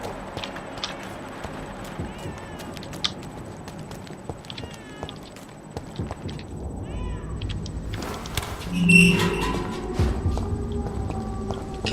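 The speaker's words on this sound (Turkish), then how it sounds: "Kedi sesi mi geliyor?" A cat meows now and then inside the Vampyr video game, set among street ambience with scattered footsteps, and a louder burst of sound near the end.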